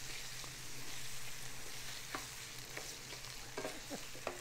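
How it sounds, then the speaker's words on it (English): Tomato paste being stirred into onions and garlic in a pan, giving a constant soft sizzle with faint scrapes and light taps of a spoon coming every second or so, no voices. "So I'm just going to stir that stuff in and mix it in."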